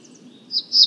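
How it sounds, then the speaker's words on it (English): Black-throated green warbler singing roughly 300 feet away in a quiet setting, giving two brief, thin high buzzy notes that rise in strength toward the end over a soft low background. "A black-throated green warbler from 300 feet away."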